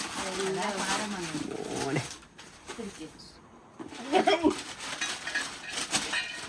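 Cooking pots given as housewarming gifts clank and rattle as they are handled, with irregular metallic knocks mixed among people talking nearby.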